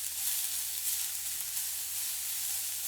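Long strands of carrots sautéing in a pan for an Okinawan recipe, a steady close sizzle and hiss with no talk, stirred with tongs.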